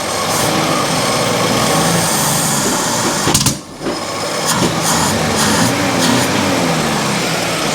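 A vehicle engine running rough after carburetor work, stumbling under easy throttle yet willing to rev, idles steadily and fairly loud, with a brief dip in the middle.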